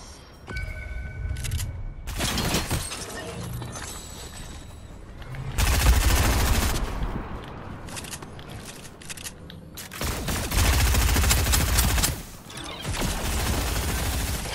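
Bursts of video game gunfire, including rapid machine-gun style volleys, come in several loud waves with brief lulls between them and no talk over them.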